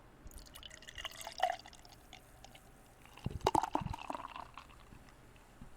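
Delirium Nocturnum beer is poured, giving faint liquid trickling and dripping with two short splashy bursts of fill, quiet and close with no talking.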